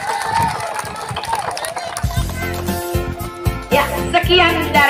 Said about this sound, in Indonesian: tepuk tangan untuk SD Kantaram